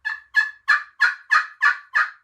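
Seven evenly spaced, loud raspy yelps from a wild turkey, each a short nasal note descending slightly, close and clean against silence.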